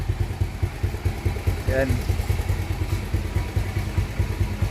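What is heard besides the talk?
motorcycle engine running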